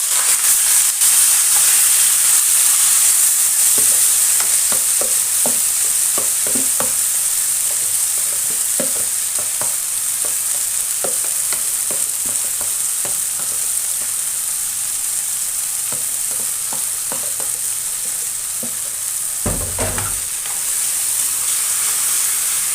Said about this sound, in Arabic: الزيت سخن معانا كده. الشاورما بتاعتنا اهي. هننزل بقى الشاورما كده اهو.